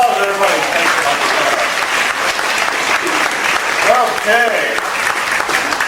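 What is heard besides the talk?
audience applause for Gary after a card trick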